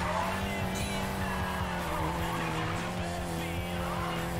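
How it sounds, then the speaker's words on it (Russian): Car drifting in the Need for Speed Payback racing game, with a loud sustained tire squeal over a steady engine roar that runs unbroken throughout. "Что-то такой себе мне получается дрифт"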